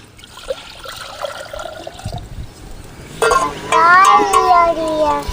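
A pot of water is poured on a stove for avaram flower soup, a soft running trickle near the mic, with other sounds and possible voices joining toward the end.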